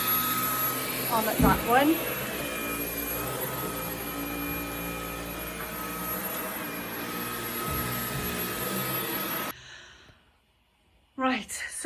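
A Dyson V11 Absolute cordless vacuum cleaner runs with a steady, loud motor whine for about nine seconds, then cuts out into near silence before starting up again. A person speaks briefly over the running motor.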